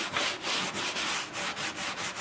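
A cloth wipes excess oil off the Limba wood body of an OM guitar, giving soft, rhythmic rubbing strokes in a quick back-and-forth pattern, close and fairly quiet.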